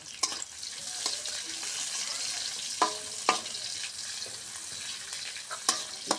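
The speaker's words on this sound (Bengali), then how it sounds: "ভালো করে আমি লাল লাল করে ভাজে নিব।" Chopped onions, garlic and green chilies fry in oil with bay leaves, a soft steady sizzle broken by several sharp clinks and scrapes of stirring, with no voices.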